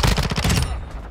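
Rapid automatic gunfire in the video game Modern Warfare 2, a dense loud burst of bullets firing in quick rhythm for about half a second, then tailing off into a fading echo.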